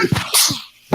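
A single sharp sneeze bursts out close by during a Dungeons & Dragons tabletop game session, loud and abrupt, followed by a short quiet gap and a brief vocal sound at the very end.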